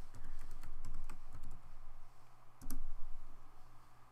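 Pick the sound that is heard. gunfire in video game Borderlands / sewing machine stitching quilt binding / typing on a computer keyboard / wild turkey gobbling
typing on a computer keyboard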